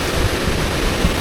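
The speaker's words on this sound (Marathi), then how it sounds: "हा मोठासा ओढा आहे" Large stream beside a collapsed, cracked road closed to traffic, a loud, steady broadband rush of flowing water, close and continuous for the whole moment.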